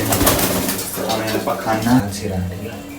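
Pigeons coo at a rooftop pigeon coop as soil is added to it, with soft clinks nearby and a person talking throughout.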